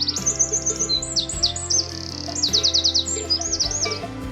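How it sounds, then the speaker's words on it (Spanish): A Eurasian wren singing from a tree, a close, loud run of rapid high trills and chattering phrases repeated in quick bursts over a low background hum. "Ay, está en el árbol. Un chochín."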